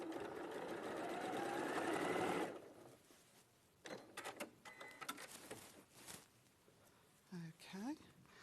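A sewing machine stitches a quarter-inch seam with a fast, loud, continuous whirring run for about two and a half seconds. It then stops, and people talk afterward.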